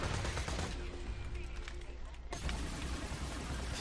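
Rapid gunfire crackles in Borderlands 2, with weapons such as a Slagga SMG firing in quick bursts amid dense game effects, briefly dropping out before the loud shooting resumes.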